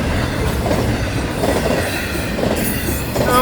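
A massive FEC freight train, two trains in succession, rumbles past close by with steady, loud roaring wheel and rail noise and faint clatter, wind buffeting throughout.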